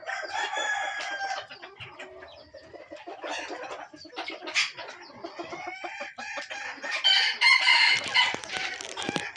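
Young rooster crowing several times, with clucking fowl around it, fairly close with no talking.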